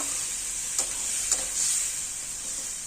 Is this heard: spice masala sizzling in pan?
yes